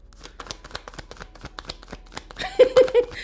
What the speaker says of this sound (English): All right, Stephanie, I'm shuffling